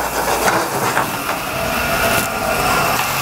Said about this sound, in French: On va les cuire dans une poêle salée